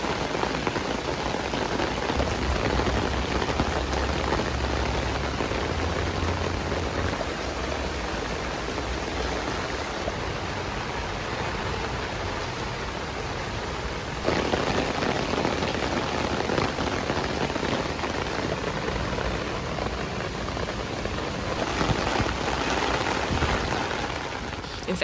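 Heavy rain pours steadily onto a North Face Wawona 6 tent during a long downpour, a dense, continuous, loud hiss of drops drumming on the fabric.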